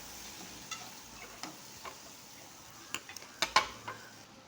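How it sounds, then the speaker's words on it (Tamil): Chopped onions being stirred while they fry in a pan for dried-fish thokku: a soft sizzle under scattered light clinks and scrapes of a spoon against the pan, several of them sharper near the end. "வெங்காயத்தை சேர்த்து ஒரு கிளறி விட்டுக்கிடுவோம்."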